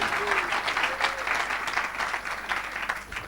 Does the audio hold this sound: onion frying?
no